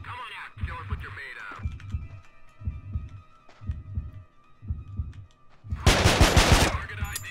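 Gunfire in a manhunt shooter game: a sharp, loud burst of rapid shots comes near the end, after a run of steady, evenly spaced low thumps.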